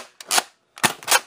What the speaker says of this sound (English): there's a successful shot